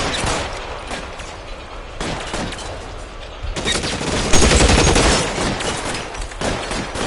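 Gunfire in L.A. Noire, a loud sustained exchange of rapid shots and bursts, with heavier volleys after the midpoint, and no speech over it.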